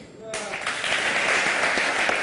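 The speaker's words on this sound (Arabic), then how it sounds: "تصفيق على العيد" Applause for Eid al-Adha bursting in abruptly after a moment of quiet, a crowd clapping steadily and fairly loud, with voices mixed underneath.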